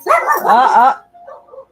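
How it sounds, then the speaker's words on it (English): A dog barks in the background of a live tarot forecast, short yips and whimpering barks rising over and between the voices of people talking. "we'll have to get the doggy to stop barking in the background"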